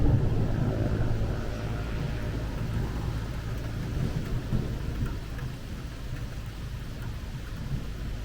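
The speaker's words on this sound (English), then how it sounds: "Oh, the rain's coming in." Steady heavy rain pours down with low rolling thunder rumbling throughout during a lightning storm overhead in Scotland, a dense continuous wash with no voices.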